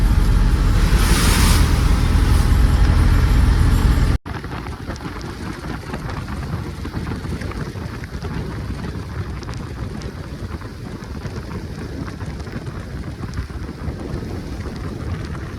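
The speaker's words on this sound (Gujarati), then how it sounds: "હજી પણ વરસાદ ચાલુ છે" Rain falls steadily during a stormy evening in Mahuva, with a loud roaring rush at first, then a softer continuous patter and hiss after an abrupt cut, low rumbles underneath.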